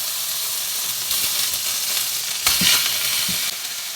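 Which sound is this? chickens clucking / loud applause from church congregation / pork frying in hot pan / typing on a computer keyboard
pork frying in hot pan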